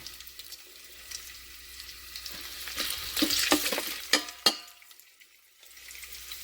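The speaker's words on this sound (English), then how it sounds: "I want to saute the sausage" Sausage sautés in an Instant Pot with a bright hissing sizzle and a few stirring scrapes that swell toward the middle, then drop to near quiet. A couple of sharp clacks stand out near the end.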